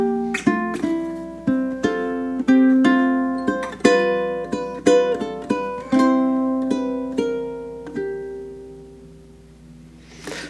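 Classical ukulele etude Andante No. 2, a plucked passage of notes and chords at an even pace that slows toward the end, close and clear with ringing sustain.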